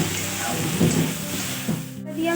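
Drumstick leaves (sajne saak) frying in a pan: a close, steady sizzle with soft stirring scrapes and rustles, fairly loud and continuous.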